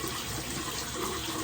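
Running water pours from a tap for rinsing after toothbrushing, a brief steady hiss close by.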